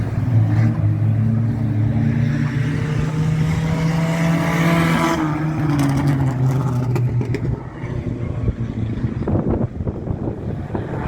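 Banger racing cars roar around the Crimond Raceway oval in Scotland during an end-of-season 2021 demolition derby, a steady loud engine drone with shifting pitch as cars pass, ending in rougher clattering bursts.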